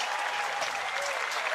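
A crowd applauds at a professional pickleball match at the Veolia North Carolina Open, a steady burst of clapping and cheering heard briefly.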